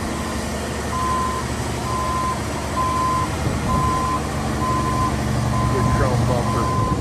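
A 2006 Mack Vision CXN613 wrecker truck backs up, its reverse alarm repeating steady evenly spaced beeps over a rumbling idling diesel engine throughout.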